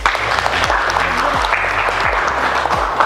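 Classroom students clap in a steady burst of applause, joined by rhythmic low thumps or beats, with voices faintly mixed in beneath the clapping.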